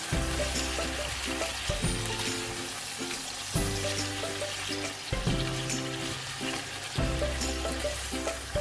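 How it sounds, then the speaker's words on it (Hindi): Chicken pieces fry with ginger garlic paste in a hot pan, a steady close sizzle broken every couple of seconds by scraping stirs, with no talk. "चिकन को जिंजर गार्लिक पेस्ट के साथ इतना फ्राई करना है कि इसका कलर चेंज हो जाए"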